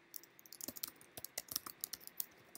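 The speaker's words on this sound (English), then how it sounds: "as I start typing class and then my class name" Code is typed on a computer keyboard in a quick, uneven run of soft, close clicks and key taps, with no voices.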